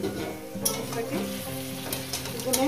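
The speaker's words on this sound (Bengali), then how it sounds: "মাংসটাকে হাই গ্যাসে মিনিমাম 7-8 মিনিট ধরে ভেজে নেব" Chicken pieces fry on a high gas flame for a spicy chicken kosha, a loud continuous sizzle with spoon scrapes and knocks against the pan, close up and without speech.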